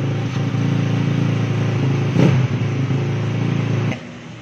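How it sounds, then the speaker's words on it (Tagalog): A 2024 fuel-injected motorcycle engine with a radiator idles loud and close at a steady, ticking rhythm, with one brief rev swell around the middle before it cuts down near the end. "paandarin natin yung motor habang nakaalalay ako ng diin dito."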